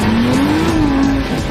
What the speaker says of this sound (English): We had to hit it with a bit of pace and smoke the tyres up a bit.